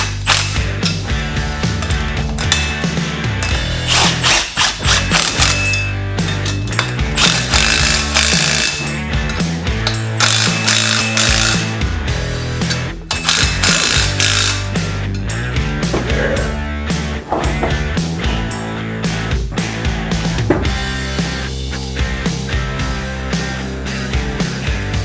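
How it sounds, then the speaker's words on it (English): A power impact gun hammers away in loud, sustained rattling bursts while working on a nut and bolt for a dual purpose engine stand, close up and with no speech. "I need my impact gun, my new fancy impact gun."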